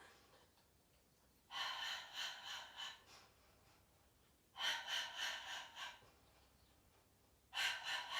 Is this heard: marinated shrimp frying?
no